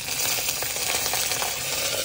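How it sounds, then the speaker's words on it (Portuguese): Sugar-coated popcorn fries in a pan, a close, continuous crackling sizzle with fine popping as the water evaporates, with no voices. "quando começa a evaporar aquela água, ela frita e vai fritando assim"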